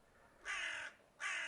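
A crow caws twice, two harsh, drawn-out calls separated by a short pause, clear and fairly close against quiet outdoor surroundings in farmland.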